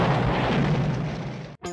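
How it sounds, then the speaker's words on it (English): A loud, sustained explosion roars in a long-take scene from an Orson Welles film, a broad rumbling blast that holds steady before cutting off abruptly, followed by a brief different sound. "the entire shot absolutely pulses with anticipation for that final explosion"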